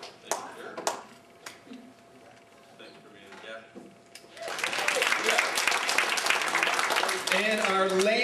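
A crowd at a Movember finale applauds the winner; a few scattered claps and light murmuring at first, then a sudden swell into loud, sustained clapping with cheering voices over it.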